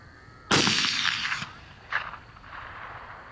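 A single loud rifle shot cracks out during a night coyote hunt in a suburban area, followed by a decaying echo and a fainter secondary report, with no talking.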